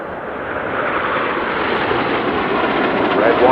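Red Arrows display jets passing low in formation, a loud, steady, broad jet roar that swells slightly toward the end, with a commentator talking over it.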